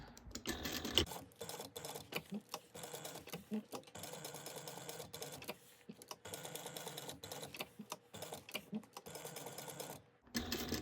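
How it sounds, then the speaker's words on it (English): A sewing machine stitches through three fabric layers of a bag with back stitching, making quick, quiet bursts of needle clatter with short pauses and a stop-start rhythm. "We're going to go through all 3 layers and make sure to back stitch really well."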